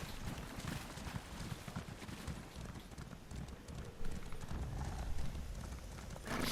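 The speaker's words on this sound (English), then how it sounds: "I'll hop on my horse." Horse hooves clop and pound in quick rhythm as a mount gallops across ground in a fantasy video game, a steady stream of close hoofbeats with some rustling movement underneath.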